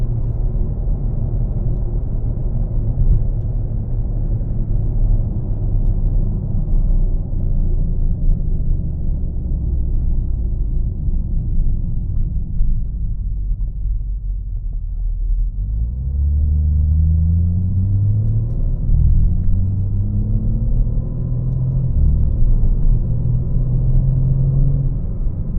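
Low, steady rumble of a BMW M4 with a Valvetronic catback exhaust and its valves closed, heard from inside the cabin. The drone stays subdued and even, then shifts pitch partway through as the revs change, with no pops or burbles.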